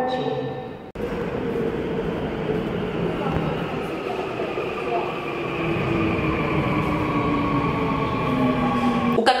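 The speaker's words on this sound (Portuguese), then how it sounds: "The train bound for Wangjinri is now approaching." A South Korean subway train pulls into a station with a steady, loud rumble and rising whine of motors and wheels. A station announcement plays over the noise.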